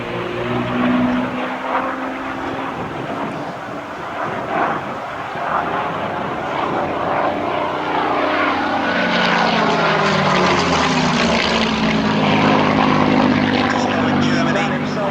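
A Supermarine Spitfire Mk IX propeller fighter flies aerobatics, its loud engine drone rising and shifting in pitch through the manoeuvres, with an announcer's commentary over a public-address system throughout.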